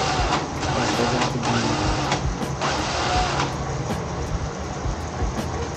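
An RGT Pathfinder RC crawler car's electric motor runs with a steady, continuous whine and buzz, loud and close, holding an even level throughout with faint rhythmic ticking from the drivetrain.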